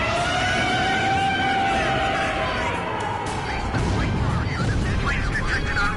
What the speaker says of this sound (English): Sound the air raid sirens.